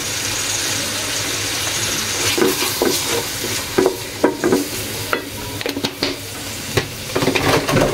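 Ginger paste, turmeric and spices frying and being stirred in a pan, a steady sizzle with scraping and stirring clatter throughout, up close and with no talk.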